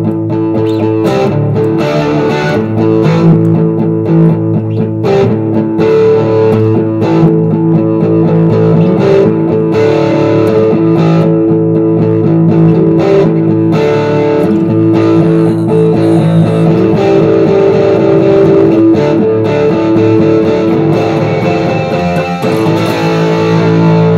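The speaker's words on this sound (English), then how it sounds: "turn distortion on the amp." Distorted electric guitar A barre chords ring out continuously, strummed in a steady rhythmic pattern through an overdriven amp, loud and close.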